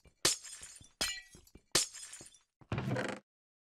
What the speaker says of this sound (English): I have a thing that can break stained glass